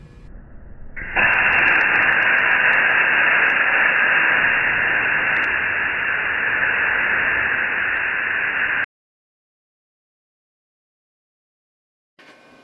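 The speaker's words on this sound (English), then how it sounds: "I'm gonna go ahead and continue cutting the rest of this out." A Titanium 45 amp plasma cutter cuts metal with a loud, steady hissing roar that starts abruptly, holds for about eight seconds and then cuts off into silence, with a faint sound returning at the very end.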